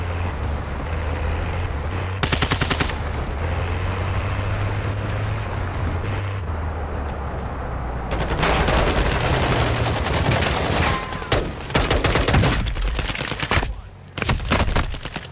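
Sustained video game gunfire, rapid automatic bursts and heavy shots layered over a constant loud roar of vehicles and explosions, continuous and dense throughout with little letup.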